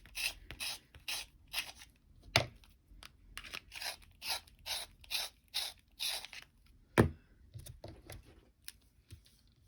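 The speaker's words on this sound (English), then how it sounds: "I'm going to get a really fine point on these with my sharpener." A handheld sharpener grinds a coloured pencil to a fine point in a run of short, evenly repeated rasping strokes, close and fairly quiet, with one louder knock partway through and no talking.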